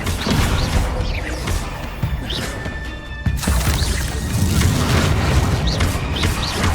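Bombarda blasting-spell explosions in the Hogwarts Legacy video game sound as repeated loud booming crashes over a dense, rumbling battle din, with a brief lull before the blasts resume.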